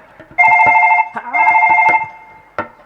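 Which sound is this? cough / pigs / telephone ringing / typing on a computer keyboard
telephone ringing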